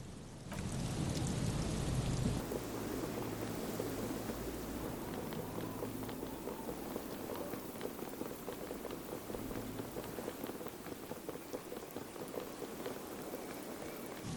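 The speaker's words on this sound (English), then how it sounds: "Some waves come crashing against the boardwalk," Steady wash of water breaking against a wooden boardwalk by the sea in Disco Elysium, a soft continuous hiss and splash with a louder surge at the start, no voices.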